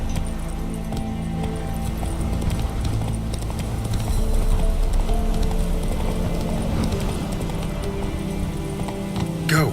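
Roach, the horse in The Witcher 3, galloping with steady rhythmic clip-clop hoofbeats, close and loud throughout over continuous low game ambience, with a brief whinny-like sound near the end.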